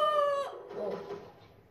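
A short clucking chicken call from a character in the video game Fortnite, a single clear squawk that fades into a softer cluck, heard alone.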